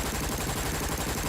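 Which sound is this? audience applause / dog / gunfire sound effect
gunfire sound effect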